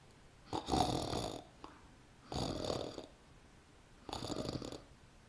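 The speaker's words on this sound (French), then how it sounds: "Dans la maison résonnaient les ronflements et les ronronnements du chat" A sleeping cat snores in a quiet house, three slow, drawn-out rasping breaths spaced a couple of seconds apart, close and soft, with no voices.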